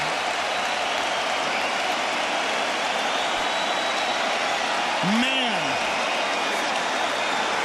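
Large UFC 206 arena crowd applauding and cheering after a fight, a steady dense roar of clapping and voices filling the whole stretch, with a brief rising whistle near the end and a voice speaking over it.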